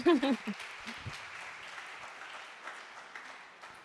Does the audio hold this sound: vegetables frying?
no